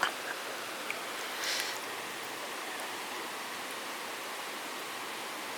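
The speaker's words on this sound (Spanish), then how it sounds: "está hirviendo el agua" Sulphurous hot spring water boiling in Kusatsu onsen town, Japan, a faint, steady bubbling hiss like a gentle stream, continuous and even, with a brief louder splash early on and no talking.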